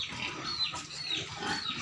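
A pig grunts and squeals in short bursts, close by, over a noisy outdoor background.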